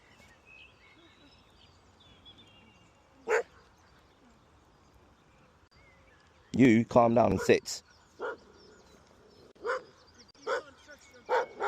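A dog barks in short, loud bursts close by, a dense cluster of yaps followed by scattered single barks, with a person talking calmly over the commotion.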